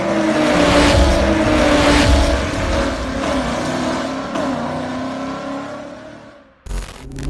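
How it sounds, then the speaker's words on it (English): A Corvette ZR1 fitted with an AWE exhaust drives along with a loud, droning engine note that swells and eases, then cuts off sharply before a brief final burst of noise. "why not let you hear the Awwe exhaust a little bit"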